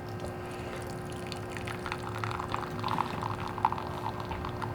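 A Keurig K4000 commercial brewer dispenses frothy milk for a cappuccino at the end of the brew cycle, giving a steady low liquid-pouring hiss and gurgle with faint mechanical hum, close and continuous with no talk.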